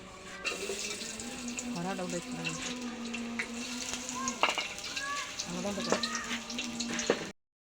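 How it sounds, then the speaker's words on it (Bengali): Oil heating in a pan for pulao gives a steady frying hiss with a constant low hum running underneath, carrying on throughout with a few clatters and scrapes over it. "পোলার জন্য এখানে তেল দেওয়া হচ্ছে"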